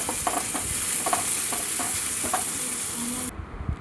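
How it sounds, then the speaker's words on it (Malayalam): Curry leaves, green chilli and turmeric sautéing in a hot pan, a steady close sizzle broken by a few light scrapes and stirs of a spoon, ending with a sudden cutoff as the hiss drops away. "എന്നിട്ട് നന്നായിട്ടൊന്ന് മൂക്കി വഴറ്റണം."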